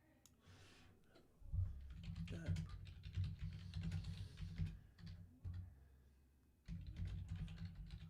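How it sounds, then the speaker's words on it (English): Steady clicking of a computer keyboard being typed on, close up, in bursts with a short pause, over a low background rumble. "I'm just typing this in."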